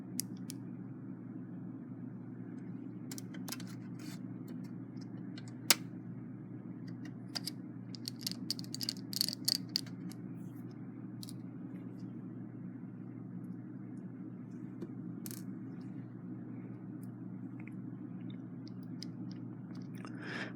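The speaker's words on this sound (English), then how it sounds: "Get some screws here and get the bridge screwed down." Screws are driven into the bridge of a Westclox Big Ben Chime alarm clock with a magnetic screwdriver, giving faint small clicks and creaks, clustered mid-clip, over a steady low hum with no talking.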